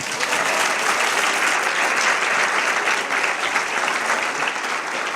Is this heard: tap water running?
no